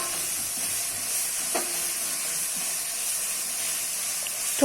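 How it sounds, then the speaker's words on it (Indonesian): A ground spice paste sautés in a pan, giving off a soft, steady sizzle and hiss, with a few faint scrapes of a utensil now and then, fairly quiet and continuous. "Lanjut kita akan tumis bumbu yang barusan kita ulek."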